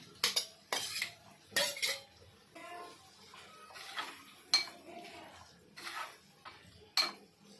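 Raw prawns stirred into a pan of softened tomato for a dry Maharashtrian prawn dish, a metal spoon clinking and scraping against the pan in sharp intermittent bursts, close and fairly loud, with quieter stirring between the knocks.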